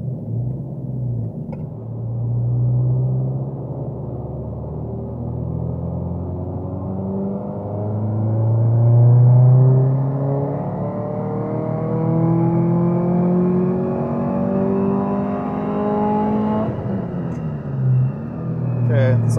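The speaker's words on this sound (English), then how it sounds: "we're going to move on to doing some wide open throttle pulls" A Subaru STI COBB build with a DOM 1.5 wastegate set near 18 pounds makes wide open throttle pulls, the engine note climbing steadily through the revs, easing at a shift, then climbing again, loud and close, with someone talking over it.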